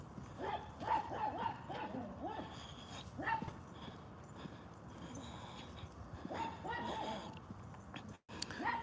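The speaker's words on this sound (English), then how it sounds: "Look, there's another dog." Dog barking from behind a backyard fence, several sharp barks in two bursts near the start and again later, moderately close over outdoor background noise.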